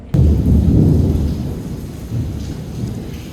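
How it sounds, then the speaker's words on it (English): A heavy outdoor downpour with thunder at Walt Disney World near the Contemporary, a deep rumbling roll over dense, steady rain noise, loud and close throughout. "it is now a complete downpour outside"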